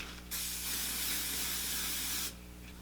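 Hair spray hisses in one steady two-second burst over a freshly waved hair section, close and fairly loud, starting and stopping cleanly against a quiet background.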